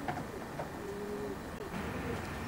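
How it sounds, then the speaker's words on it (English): Pigeons coo softly in a racing pigeon loft, a few low drawn-out calls over quiet background noise in the morning. "Thanks very much for letting me come and see the pigeons this morning, Doug."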